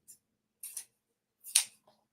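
A few quick close snips of scissors trimming a sunflower ribbon bow, three short crisp cuts separated by pauses in a quiet room.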